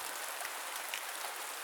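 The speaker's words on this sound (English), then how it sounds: "the rain outside serving as a comforting backdrop to his solitude" Steady rain falls outside at night, a soft continuous hiss of drops without a break, even and fairly quiet throughout.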